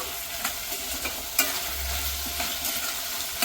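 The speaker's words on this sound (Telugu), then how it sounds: "ఒక్కసారి కలిపేసుకుందామండి." Tomatoes with salt frying in a pan while being stirred, a steady close sizzle with scraping strokes of a spoon, no talking.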